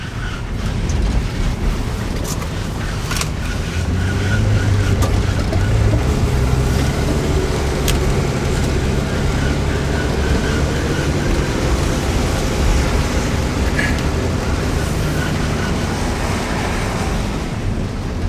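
A neglected Dodge Dart Swinger being revived, with its engine running in a steady, loud, low rumble that holds evenly throughout with no talking.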